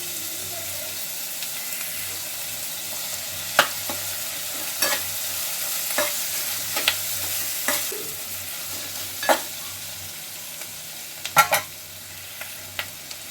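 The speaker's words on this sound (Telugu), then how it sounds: "ఉల్లిగడ్డ అనేది మంచి నూనెలో గోలుతుంది తొందరగా" Onions fry in oil with curry leaves and ginger-garlic paste, giving a steady low sizzle broken by sharp spoon-on-pan stirring clicks at irregular intervals, with no talking.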